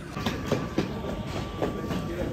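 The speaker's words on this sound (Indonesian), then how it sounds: "dari arah Jakarta Kota masuk KRL" A KRL electric commuter train pulls in from the Jakarta Kota direction during a 100-year KRL parade, giving a steady rumbling roar with periodic clickety-clack wheel beats over the rails and faint talk in the background.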